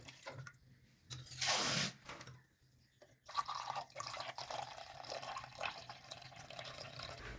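Tap water pours and splashes into a bowl for a pressure cooker, a close burst of running water followed by dripping and light handling clatter, with no talk.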